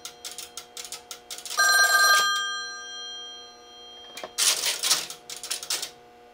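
Telephone bell ringing through an OKI AC125A crossbar PBX, sharp metallic rings in bursts, with clicking relay-like ticks between them, close and clear.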